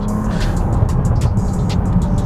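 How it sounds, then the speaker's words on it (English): Continuous low rumble of a Bentley Continental GT Speed driving along a road from inside, with steady engine and tire noise. "Let's take this car out on the road."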